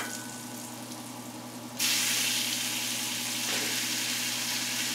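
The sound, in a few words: pork sizzling as it is added to the pan for adobo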